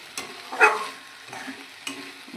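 Crab stir-fried with spices in a pan gives a few soft, separate scraping stirs, each a short rustle over near-silence.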